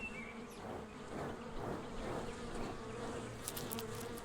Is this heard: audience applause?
no